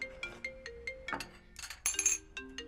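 A mobile phone rings with an incoming call indoors, a short repeating electronic melody with bright chiming notes, close and fairly quiet, with some clinking in the middle.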